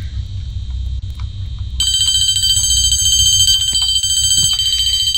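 A fire alarm in a Roblox video game, set to its bell tone, starts suddenly and rings loudly and continuously over a low hum.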